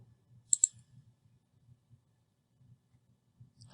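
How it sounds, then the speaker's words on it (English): A pair of quick, crisp computer mouse clicks sounds close by against near silence, with faint low background rumble and another light click at the end. "And click Sign In."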